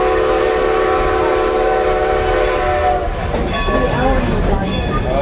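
A Strasburg line train in Amish Country sounds its horn in a loud, sustained blast, then the rumble and clatter of the cars on the track continues close by.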